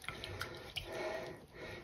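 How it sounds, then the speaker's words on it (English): Dye is rinsed off freshly dyed yarn into a small jug of water, giving faint, close splashes and drips with soft liquid sloshing in a quiet room and no talking. "got a little jug of water here. I'm going to try and get that dye off into here"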